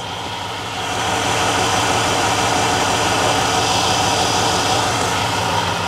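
Chevy LS engine idling in a shop, a loud steady rumble with an even, regular pulse that holds throughout without talking.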